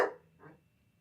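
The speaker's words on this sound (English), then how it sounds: "Hey, no barking." A dog barks once, loud and close, indoors, then gives a softer second yelp shortly after, followed by quiet.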